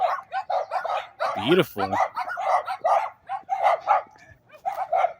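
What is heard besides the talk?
puppies barking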